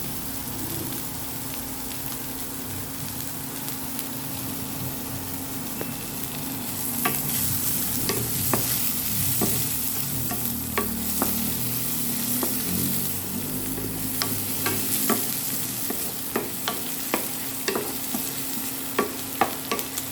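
Garlic and chopped onion sauté in a hot pan for Korean chapchae, giving a steady oily sizzle. A spatula soon starts stirring, adding scraping strokes and scattered clicks over the frying hiss. No one speaks.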